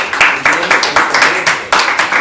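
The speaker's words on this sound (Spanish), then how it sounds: "un aplauso, muchachos" Students in a math classroom clap in a quick series of sharp, loud hand claps, several bursts in a row with a regular rhythm and nearby, no talking over them.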